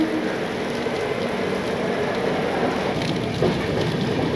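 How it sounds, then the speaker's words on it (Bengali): Heavy rain falling at a railway station on the Puri–Howrah route, a dense steady hiss with a broad patter that fills the whole stretch evenly and without talk. "ভালো বৃষ্টি পড়ছে।"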